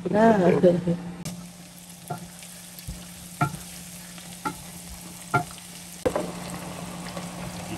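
Fermented shrimp sautés with garlic in a pan, a continuous close sizzle broken by repeated sharp clacks of a utensil against the pan, with a voice briefly at the start.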